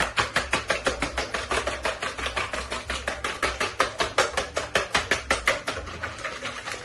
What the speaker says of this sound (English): Now we just whisk those eggs up.